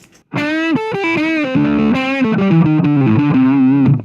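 An electric guitar plays through an overdrive pedal set to a breakup tone, giving a loud, sustained, gritty voice. Single notes and bends lead into a run of chords that ring out to the end.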